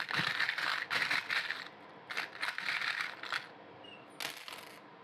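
Small metal Lenormand divination charms are tossed and clatter onto a surface in several quick jingling bursts, close by with brief gaps between casts.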